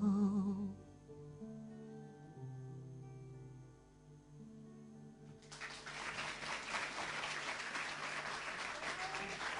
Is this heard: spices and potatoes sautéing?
no